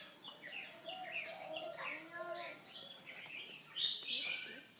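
A caged hwamei songbird sounds a run of varied chirps and whistled notes at close range, fairly soft and steady, with no talk over it.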